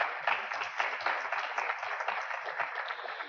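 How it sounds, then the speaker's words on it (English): A modest crowd at a hybrid awards event applauds itself, with thin, steady clapping that sounds a little muffled and distant. "Please give yourselves a round of applause."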